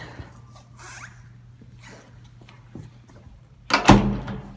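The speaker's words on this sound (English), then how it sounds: "And you shut the door" A hydraulic residential elevator's door is shut in a test plant showroom: faint shuffles and small knocks lead to one loud, close slam near the end.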